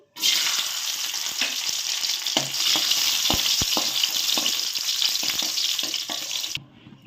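Raisins fry in hot ghee for carrot halva, a loud, dense, even sizzle with a few sharp clicks and spoon taps in the middle that drops away abruptly near the end, with no voices.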